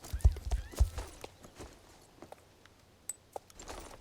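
Hooves of an Icelandic horse in the video game Star Stable Online clop in quick uneven bursts, a few loud near steps early and sparser lighter ones later, with faint game effects.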